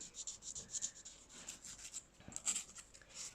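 Sandpaper rubbed over a ceramic piece, a soft close rasping scrape repeated in short strokes, fairly quiet and with no speech.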